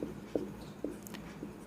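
Chalk or pen tapping and scratching on a board during a maths lesson on matrices, a few soft, separate knocks spaced evenly over quiet room noise.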